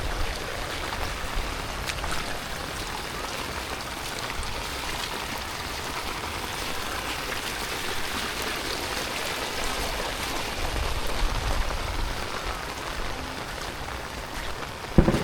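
Strong floodwater rushing through a street, a steady dense roar of flowing water that continues unbroken at moderate loudness throughout.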